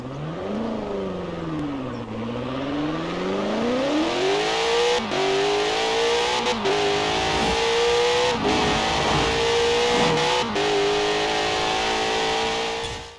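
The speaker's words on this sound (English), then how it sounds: "let's hear the engine sound" A Nissan R390 race car engine revs in a Forza driving game, climbing from a low rumble through rising and falling pitch sweeps with brief gear-shift dips, loud and continuous with no talking.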